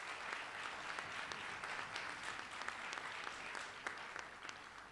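A crowd at a graduation and white coat ceremony breaks into applause, a sustained wash of many hands clapping in a large room, even and moderately loud with a few sharper individual claps standing out.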